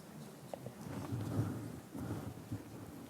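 Wind and rain outside a hermitage make a steady, low, rumbling wash, faint and distant, with soft swells and no voices.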